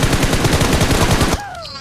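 Rapid machine gun bursts from a mobile battle royale game during a LAN tournament match, loud and dense for over a second before cutting off abruptly, leaving a fading electronic tone.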